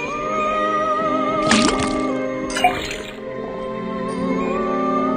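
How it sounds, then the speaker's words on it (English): Water dripping from a faucet in the Detective Grimoire video game, a few soft liquid drips and splashes over a steady musical game soundtrack, with no talking. "First thing we do, then tap the faucet."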